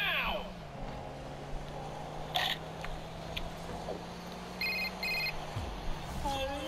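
A telephone rings in short repeated bursts at moderate level over background room noise and a low hum, with faint movement sounds between rings.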